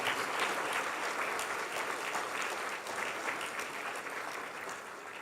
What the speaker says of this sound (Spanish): Pero sigan aplaudiendo